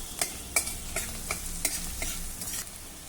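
Onion, garlic and dried red chillies sauté in a pan with a constant soft sizzle, broken by regular spatula stirs and scrapes about every half second, close and clear with no talking.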